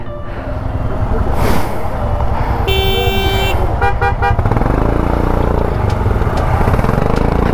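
Busy mountain road traffic near Khardung La pass, Leh, with cars and motorbikes. A constant close engine drone is broken by several short horn toots.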